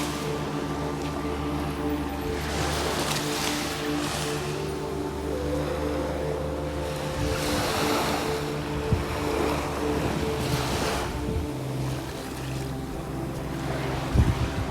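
Sea waves at a beach beside a luxury seaside villa in Thailand, a steady surf wash with soft swells rising and falling, mixed with wind buffeting the microphone and no talking.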